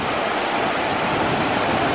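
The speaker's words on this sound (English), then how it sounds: "it's a tidal river" Water of a tidal river at Dumfries, Scotland rushes in a steady, dense, loud wash with no breaks and no voices.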